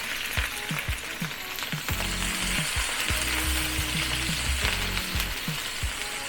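Onion sizzles and fries in a pan while pork dinuguan is being cooked, a steady close crackle with scattered clinks of a utensil stirring against the pan.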